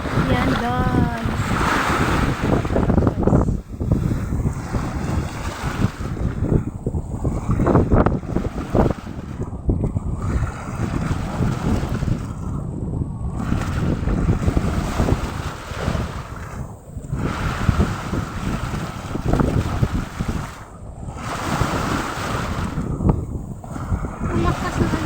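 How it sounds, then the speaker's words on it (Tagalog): Strong sea waves pound around a small boat on open water, a sustained loud roar of churning water with rhythmic surges, heavy wind buffeting the microphone and some background talk. "Ang lakas ng alon guys."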